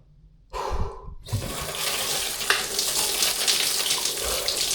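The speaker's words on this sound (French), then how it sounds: "objectif douche froide dès le matin, au moins ça réveille très très bien" Cold shower water running in the morning, a brief spray burst then a pause before a steady loud gushing hiss that fills the rest, close by with no talk.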